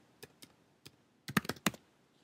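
Keys tapped on a computer keyboard while a file name is entered: a few spaced single keystrokes, then a quick cluster of louder presses, close and clear with no talk.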